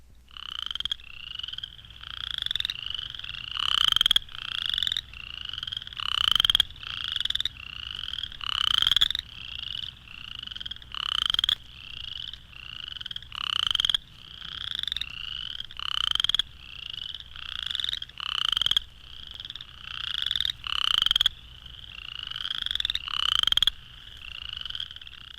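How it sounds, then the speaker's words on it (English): Western swamp cricket frogs (Pseudacris nigrita triseriata) call in a spring chorus at Rochester, New York, giving rapid rising creaky trills that repeat in steady pulses every second or so, close and clear over a faint low hum. "the western swamp cricket frog, Pseudacris nigrita tricereata, recorded May 1st at Rochester,"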